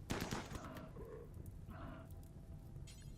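Rapid bursts of gunfire from RimWorld, a sci-fi colony game, crackle in dense repeated volleys with a sharp opening shot, steady and moderately loud throughout.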